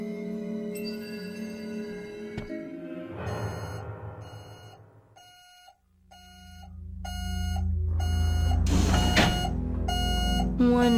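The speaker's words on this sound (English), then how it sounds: "Now I'm setting off metal detector alarms." Metal detector alarm in Buffy the Vampire Slayer: Chaos Bleeds, a run of short, evenly spaced electronic beeps that rises under a swelling rumble and cutscene music.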